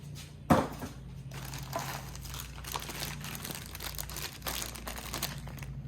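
Plastic packaging crinkles as a Simpson pressure washer part is unwrapped, with a sharp crunch at the start followed by steady close rustling and crackling over a low hum.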